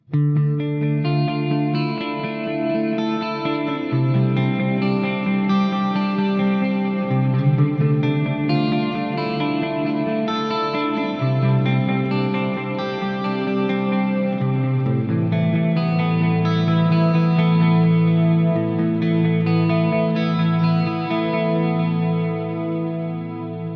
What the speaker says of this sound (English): let's go for a split middle position thing and go for a big ambient tone